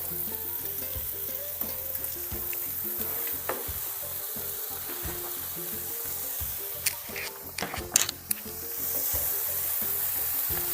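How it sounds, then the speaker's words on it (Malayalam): Chopped mixed leaves for Kerala pathila thoran hit a hot pan and sizzle steadily, with a continuous frying hiss and repeated scraping stirs throughout. "അരിഞ്ഞ് നന്നായിട്ട് മിക്സ് ചെയ്തെടുത്ത ഇലകളാണ് അത് ഞാൻ ഇതിലേക്ക് ഇട്ട് കൊടുക്കുന്നുണ്ട്"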